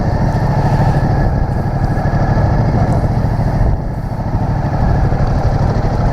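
A 2015 Ducati Multistrada DVT with a variable-valve engine ridden at low speed, its loud, steady engine drone and rumble continuous and close throughout, with a slight dip near the middle.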